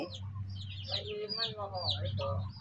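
Muscovy ducks call in short, raspy clucks and chirps, several birds close by over a low steady hum.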